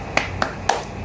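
A class performs the "tepuk semangat" clapping chant, three crisp claps in an even rhythm, close and clear with no talking.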